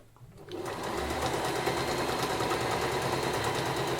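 Sewing machine stitching down the strap of a fabric dog bandana: a brief quiet lead-in, then a fast, even run of close, loud stitching that continues steadily to the end.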